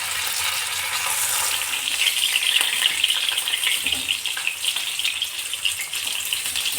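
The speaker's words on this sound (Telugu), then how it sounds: "పాన్ పెట్టుకొని ఆయిల్ హీట్ అయిన తర్వాత మనం చూసేసుకొని ఫ్రై చేసుకోవాలి" Fish fries in hot oil in a pan, giving a steady, loud hiss and crackle of sizzling that holds throughout with no talk.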